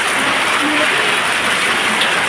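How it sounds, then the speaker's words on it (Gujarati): Heavy rain in Mera village, Bhabhar taluka, Gujarat, pours down in a dense, steady roar, close and loud, with no letup across the whole stretch. "વરસાદનો અવાજ કેવો આવે છે ઘણો વરસાદ"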